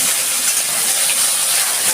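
Shrimp sizzling loudly in hot mustard oil in a pan, a steady, bright, hissing fry that holds without a break through the short stretch, close-up and with no talking.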